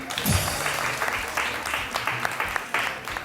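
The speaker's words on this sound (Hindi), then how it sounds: "इनके लिए बहुत सारी तालियां" Applause from a television studio audience on a morning show fills the whole stretch, steady and fairly loud, with a presenter's voice briefly audible near the start.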